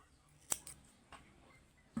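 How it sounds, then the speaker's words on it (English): Scissors snipping crochet yarn at the end of a kids' pullover project, a single sharp close cut followed by a couple of faint clicks. "I'm going to cut my yarn now"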